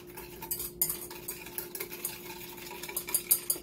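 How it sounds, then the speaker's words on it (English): A whisk stirring sugar and yeast together in a bowl for white bread dough, quick light clinks and scrapes repeating close by in an otherwise quiet kitchen. "Now I'm gonna get a whisk. And we're gonna whisk this together."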